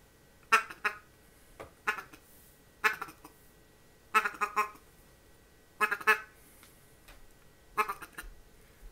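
Buck Gardner Mallard Magic duck call blown to imitate a lone mallard, giving short quack bursts in a loose rhythm of about six calls over nine seconds, moderately loud with a faint background.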